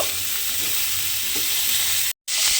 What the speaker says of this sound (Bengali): শুধুমাত্র নুনটা দিয়ে আমি ফুলকপিটা একটু লাল করে ভেজে নেব